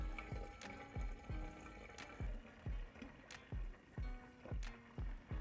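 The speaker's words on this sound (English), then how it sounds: "Carefully get your jug and fill up the fermenter, demijohn, fermenter, bucket" Pressed apple cider pours from a jug into a fermenter with a rhythmic, glugging splash, about eight regular gulps over five seconds, close and fairly quiet with no talk.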